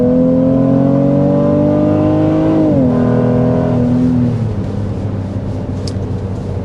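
A 2024 Honda Pilot Elite with a 10-speed automatic pulls steadily, its engine drone rising in pitch, then dropping after a shift and settling into a smooth, continuous cruise.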